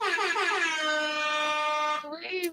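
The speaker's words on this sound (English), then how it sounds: "The only thing I got is air horns." A loud, sustained air horn blast holds a steady pitch for about two seconds, then breaks into a short sputtering tail.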